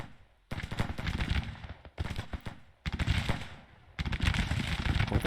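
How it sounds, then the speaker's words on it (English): Massed musket and artillery fire from a Civil War battle in the strategy game Grand Tactician: The Civil War, loud dense crackling volleys in several bursts separated by brief lulls, with no talk. "Alright, they're firing."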